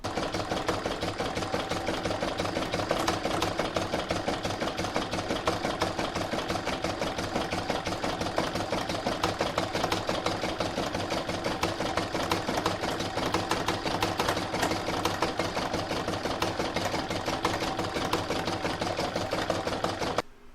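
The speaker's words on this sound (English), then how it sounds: "Next we're going to put a satin stitch border all the way around the edge there." An embroidery machine stitches a satin stitch border around a poinsettia coaster with a fast, continuous mechanical whir and rapid needle chatter, close and steady for the whole stretch before stopping at the end.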